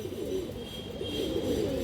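Road-line pigeons cooing close by, a steady low murmuring coo that rolls on without a break.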